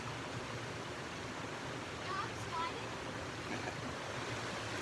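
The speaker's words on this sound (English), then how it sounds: "you can see just a beautiful creek that goes down from the falls" A creek flowing down from a waterfall, a steady broadband rushing wash that stays even throughout, faint and distant with no distinct events.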